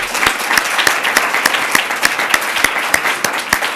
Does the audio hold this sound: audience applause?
yes